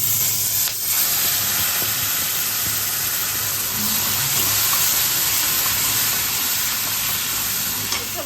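Ground spice paste for Bengali-style egg curry sizzles in hot oil, making a dense, loud hiss that holds steady and continuous throughout.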